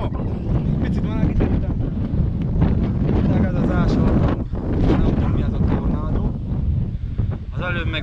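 Strong wind roars and buffets the microphone by a choppy sea, a loud continuous rumble with gusty swells, while someone talks over it.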